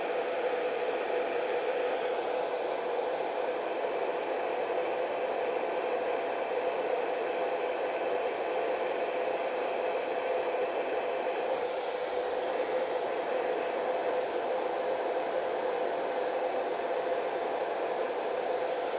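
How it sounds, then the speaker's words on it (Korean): A hair dryer blows steadily near a portrait drawing on paper, a constant midrange whoosh with a faint motor hum running unbroken throughout, with no talk. "드라이기는"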